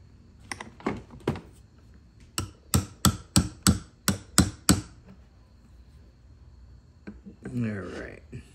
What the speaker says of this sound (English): we'll give it a little love tap with a socket, just to make sure everything is where it belongs